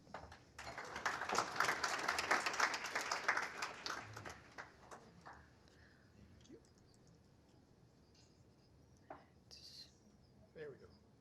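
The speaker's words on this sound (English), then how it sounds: "Please welcome Peter with a round of applause" Audience applause at a climate change flood risk mapping workshop, a burst of clapping for the first few seconds that fades out, followed by faint room noise and scattered taps.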